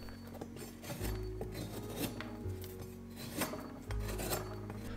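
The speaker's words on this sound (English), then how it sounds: "Using the knife, I was also able to round the edges quite nicely." A kitchen knife scraping and rounding the edges of a hardboard piece, giving a dry, rasping rub in uneven strokes close by, with low hum beneath and no talk.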